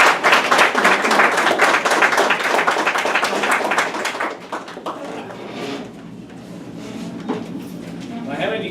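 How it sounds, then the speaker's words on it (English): A crowd at a campaign event for Senate candidate Mark West claps loudly for about four seconds, then the applause fades into quieter room noise and scattered light sounds. "can we give him an extra round of applause for working to abolish the federal income tax?"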